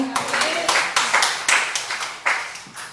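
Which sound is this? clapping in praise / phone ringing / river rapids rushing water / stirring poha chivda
clapping in praise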